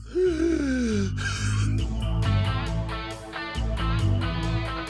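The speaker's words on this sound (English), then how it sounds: "for him to gasp for air and then pass out" A sharp, strained gasp for air, close and loud, followed by heavy, labored breathing with a groaning edge over a low droning background.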